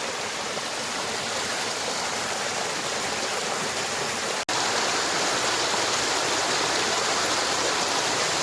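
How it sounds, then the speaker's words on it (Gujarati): The Jatashankar waterfall in the Girnar foothills during the monsoon, roaring in a dense, steady rush of falling water that fills the scene, loud and constant with a brief cut midway. "જટાશંકરનો ધોધ છે આ"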